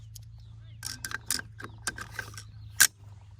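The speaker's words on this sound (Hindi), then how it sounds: "हमने इसमें इसका जो बोल्ट है और इसका चार्जिंग लीवर है वो हमने इसमें लगा दिया है" The bolt and charging lever slide into an AR-15 rifle upper with a series of sharp metallic clicks and sliding scrapes, close and fairly quiet over a low steady hum.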